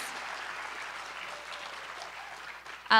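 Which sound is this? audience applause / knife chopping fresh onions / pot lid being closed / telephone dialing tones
audience applause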